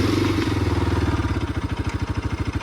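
A Bajaj RS200 or Yamaha R15M motorcycle idles up close, a steady pulsing thump with a faint rattle, the rhythm loosening slightly toward the end; no talk over it.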